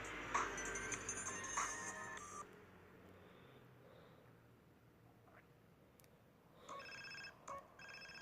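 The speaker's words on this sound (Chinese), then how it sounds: "按右边的手机就可以接电话。" A mobile phone rings in the video game GTA San Andreas, a faint electronic ringtone with repeated short tonal bursts at the start and again near the end over quiet game ambience.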